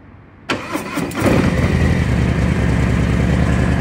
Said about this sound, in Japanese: でジクランドハイドを、音を聞かせてもらいましょう。オンしてちょっとエンジンかけます。